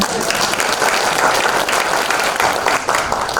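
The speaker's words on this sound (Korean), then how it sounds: "우리 청장님에서 박수 한번 칩시다." Audience applause at a lecture-style talk, requested in honour of an agency chief, a loud, continuous wash of many clapping hands lasting a few seconds with no break.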